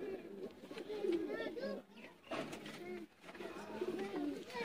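Pigeons kept by a fancier coo close by, repeated soft throaty calls in short phrases with brief pauses, fairly faint overall.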